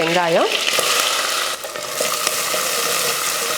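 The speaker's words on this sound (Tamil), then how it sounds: "எண்ணெய் காஞ்சதுமே கடுகு உளுந்து, கடுகு பொரிஞ்சதுமே கொஞ்சம் கருவேப்பிலை" Loud, steady sizzling and crackling of mustard seeds, urad dal and curry leaves frying in hot oil, with a brief rising tonal squeal at the start and no talking.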